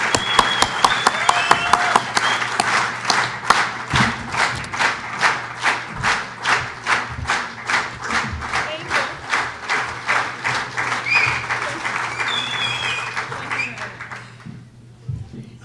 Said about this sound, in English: please welcome our speaker, Ms. Adeola, with the greatest applause possible